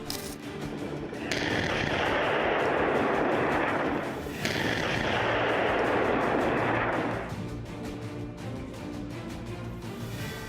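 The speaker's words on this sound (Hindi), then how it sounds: "उसी ड्रोन ने इस मेरकावा टैंक पर रॉकेट गिरा दिए, जिससे टैंक में जोरदार 2 धमाके हुए" Drone-dropped rockets strike an Israeli Merkava tank near Rafah, giving two loud blasts that swell into a long rumbling, crackling roar before fading to a lower background noise.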